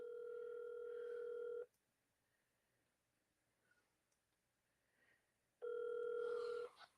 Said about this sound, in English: Get him on the phone.